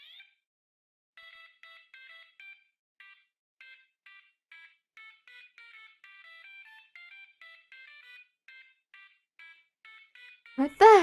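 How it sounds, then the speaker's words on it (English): Fire alarms hacked to beep out the Super Mario Bros. theme in a school from the game Butterfly Soup, a thin electronic melody of short tones playing steadily, ending in a sudden loud burst. "Someone hacked the fire alarms to play the Super Mario Bros. Theme."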